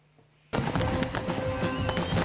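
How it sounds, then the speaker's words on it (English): Winchester's annual fireworks display erupts after a quiet moment into a loud, continuous barrage of crackling bangs and thuds that fills the scene. "Last Saturday saw Winchester's annual fireworks evening go off with a big bang"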